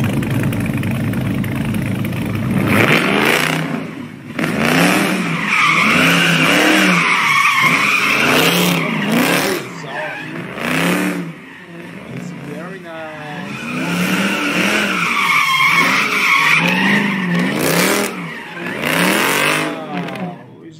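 BMW, Lamborghini, Ferrari or Dodge car spinning donuts, tires skidding and squealing in repeated loud bursts with engine revving, while someone talks over it throughout.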